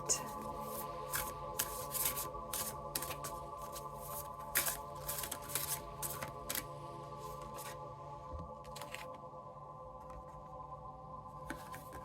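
Rapid crisp riffling and flicking of a deck of animal oracle cards being shuffled, a string of sharp papery bursts close up over a faint steady hum, thinning out toward the end.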